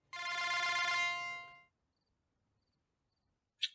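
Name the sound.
phone ringing unanswered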